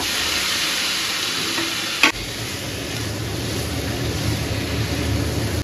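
Chicken pieces tipped into hot oil for a coconut malai chicken curry set off a loud, steady hiss and crackle, with one sharp clatter of the meat landing, sizzling on continuously with no voices.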